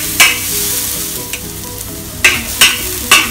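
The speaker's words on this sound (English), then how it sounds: "Garlic, the dried shrimps. Fry them around until you can smell the fragrances." Garlic and dried shrimps frying in a wok, a loud close sizzle broken by several sharp metallic scrapes of the spatula, the last few coming in quick succession.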